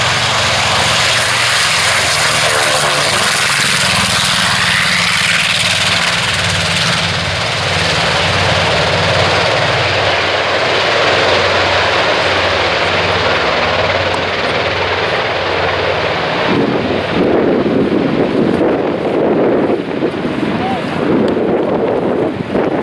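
Warbird engines run up on a museum runway before takeoff, a loud, continuous propeller roar and drone with gusting wind noise, building in intensity and shifting to a harsher, brighter roar near the end.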